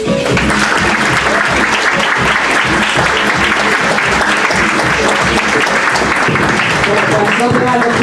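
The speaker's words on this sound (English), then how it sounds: "Another round of applause." Audience applause fills a performance space, loud, steady and sustained with dense clapping from a large crowd throughout, no one speaking over it.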